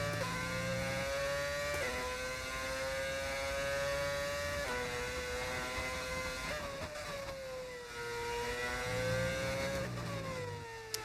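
Racing car engine in an F1 video game career mode at the Austrian circuit: a loud, steady high-pitched whine that rises and drops sharply with each gear shift, heard alone throughout.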